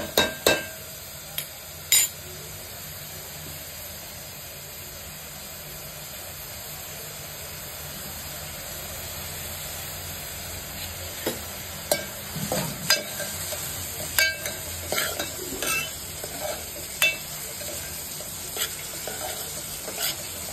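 Onions with ginger-garlic paste frying until golden in a home kitchen, a steady soft sizzle broken by sharp scraping and clinking stirs of a spatula against the pan, alone and close.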